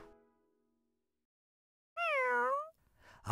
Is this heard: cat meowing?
yes